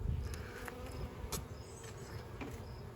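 Honey bees from a package colony drone in a steady close buzz while a hive is opened and frames of capped brood are inspected, with a few brief louder passes as individual bees fly near.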